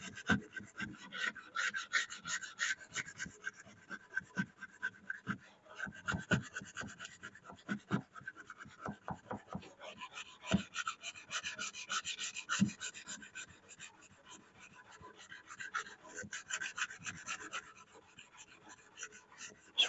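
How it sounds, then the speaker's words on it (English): A Bowie knife blade is hand sanded with strokes running parallel to the blade, producing a quiet, steady rhythmic rasping and scraping that continues throughout with no talking. "what I'm doing right now is I'm sanding parallel to the blade"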